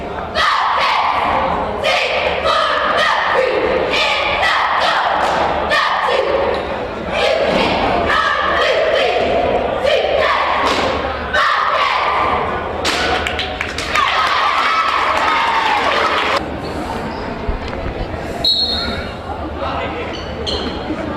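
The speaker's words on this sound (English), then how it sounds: "Cheering squad on the floor as we speak." A cheering squad performs on the floor at a high school boys' basketball game during a timeout, with steady loud crowd noise, chanting voices and rhythmic thumps and stomps running throughout.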